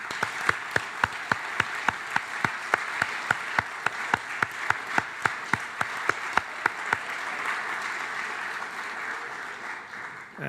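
An audience at an alumni honors evening fireside chat applauds, broad crowd clapping punctuated by a sharp, regular near clap from one person, steady for about seven seconds before slowly thinning out.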